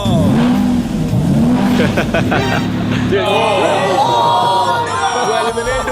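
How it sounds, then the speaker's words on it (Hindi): A Lamborghini car accelerates with a loud engine roar, mixed with crowd noise and voices talking over it. "अगर मैंने एक्सेलरेट किया तो वो लोग चौंक जाएंगे।"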